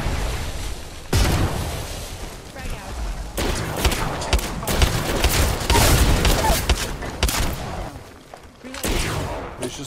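Grenade blasts and rapid gunfire from an Apex Legends firefight, loud and nearly continuous, with bursts of shots and booming explosions layered under players' voices.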